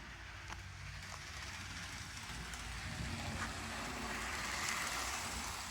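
Faint, steady rumble of a small vintage DC HO scale model train running along its track, with light clicking and whirring, no voices.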